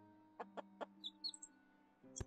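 Chickens cluck in the farming game Clanfolk, three short evenly spaced clucks followed by a few quieter chirps and a louder squawk at the end, set over a steady low in-game ambient hum.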